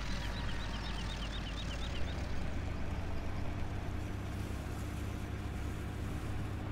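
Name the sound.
helicopter in Farming Simulator 2017 video game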